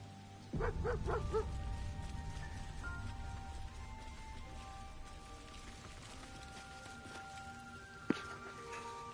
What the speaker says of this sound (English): Oh, it's the dog!